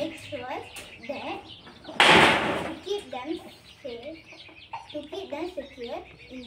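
Backyard urban chickens, a mother hen with chicks, cluck repeatedly nearby in soft, bubbling bursts, with a sudden loud rustling clatter partway through.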